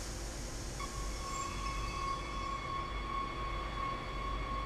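Commuter train pulling away in the Train Sim World Rapid Transit simulator, a steady low rumble of motors and wheels with a sustained high electric whine rising in and holding throughout.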